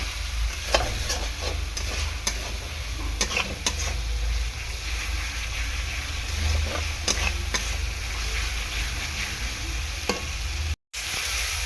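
Spice masala for chicken kosha is stirred and sautéed in a pan with a splash of water, a low steady sizzle broken by repeated sharp spoon scrapes and taps against the pan, close up, with no talking.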